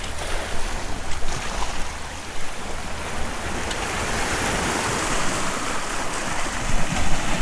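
Steady rushing water and surf as waves wash onto a rocky shore in Bonaire, a continuous broadband wash with gentle surges, close by and fairly loud with no voices.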